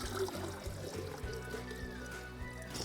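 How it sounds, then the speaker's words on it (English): Water poured into a GSI percolator coffee pot at a campsite, a steady trickling splash that runs throughout over a low rumbling background. "So we're just gonna pour the water in."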